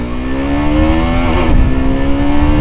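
A KTM RC390 motorcycle engine revs hard and steadily, pitch climbing smoothly with a brief quick-shifter cut and dip mid-way before pulling on again, loud and close with no voices.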